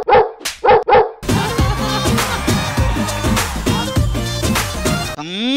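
Dogs bark close and loud, three sharp barks at the start, then music takes over with rhythmic sounds continuing to the end.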